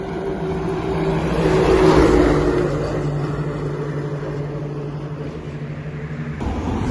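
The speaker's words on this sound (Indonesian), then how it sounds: "Ini kontainer lewat jembatan ini." A heavy container truck rumbles across a long pile-slab bridge over a flooded area. The deep engine and tire drone swells as it passes close, peaks, then holds a steady lower roar.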